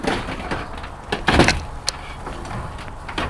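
A slide-out drawer in a van fitted with built-in storage for sockets, cooker switches and electrical fittings, giving a short sliding thump near the middle of the clip amid faint rustling and knocks.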